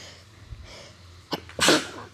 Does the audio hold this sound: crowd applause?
no